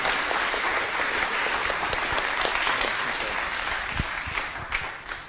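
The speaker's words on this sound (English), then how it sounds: "clap a bit" An audience at the Akademy 2017 awards ceremony gives a steady round of applause, a dense, even patter of many hands that holds at moderate loudness throughout and eases slightly near the end.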